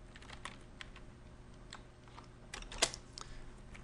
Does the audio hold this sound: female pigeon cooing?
no